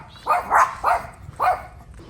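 Several small dogs in Pattaya, Thailand, bark from nearby, giving four sharp yappy barks in an uneven rhythm with brief gaps, and no talk over them.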